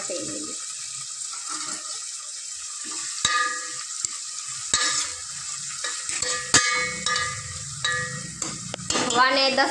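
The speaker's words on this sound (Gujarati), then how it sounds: "પંદર મિનિટ એમનેમ તેલમાં ચડવા દેવાનું ધીમો ગેસ રાખીને" Vegetables simmer in oil over a low flame for a desi chori (long bean) sabzi, giving a steady close sizzle broken by scattered clinks and stirring scrapes from the pan, with a short voice near the end.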